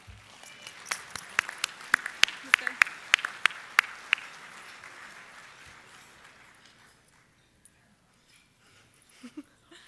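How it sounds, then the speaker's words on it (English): Scattered hand claps from a small audience at a softball hall of fame induction ceremony in Shreveport, honoring the hosting staff; a few distinct claps build briefly, then thin out and fade to near quiet. "Let's give a round of applause to the staff here in Shreveport for their great hospitality and service"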